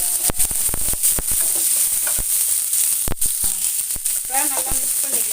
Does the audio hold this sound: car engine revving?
no